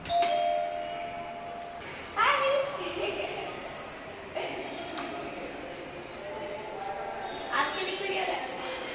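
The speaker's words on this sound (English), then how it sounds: "We're gonna stand outside and I'm gonna ring the bell" A doorbell chimes several times outside a house during a 70th birthday celebration, with clear ding-dong tones standing out over children's voices and chatter nearby.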